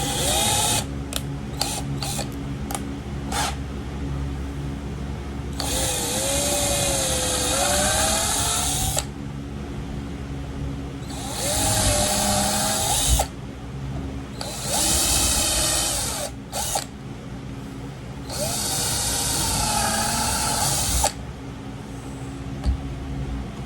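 Power drill boring four holes through a Kydex sheet in a workshop, several separate whining bursts of a few seconds each with short pauses between, loud and close, no talking.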